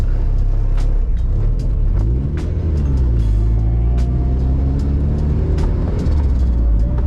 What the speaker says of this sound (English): hopefully you can hear the car all right